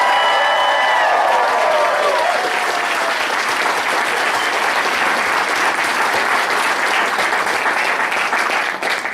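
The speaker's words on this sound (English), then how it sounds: "how are you going to clap for that person?" A large audience at a Toastmasters District 37 spring conference applauds loudly and steadily, with some cheering, holding at full strength for the whole stretch.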